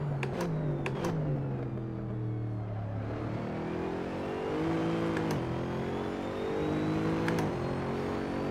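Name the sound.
Koenigsegg GT3 race car engine in Assetto Corsa video game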